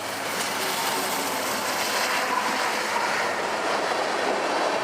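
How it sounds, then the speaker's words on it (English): A BNSF northbound crude oil train, likely running empty, rolls past near Oklahoma City with an SD-70ACE locomotive leading. It makes a loud, steady, close rumble of rolling cars with faint clickety-clack throughout and no voices. "a northbound crude oil train with an SD-70 ACE in the lead"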